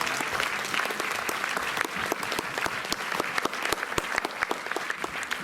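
Sustained applause from a cinema audience, dense and even with sharp individual claps standing out, continuous and fairly loud throughout with no talk over it.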